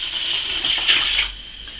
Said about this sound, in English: So I'm going to add 1 litre of water.